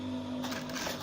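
A sewing machine runs steadily while a button-down shirt collar is sewn down, giving a brief, continuous, fairly loud mechanical whir with no talking.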